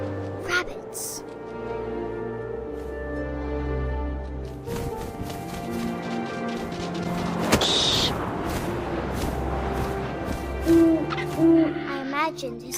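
Owl hoots sound over a steady musical background, with a few brief higher calls partway through, in the video game What Remains of Edith Finch.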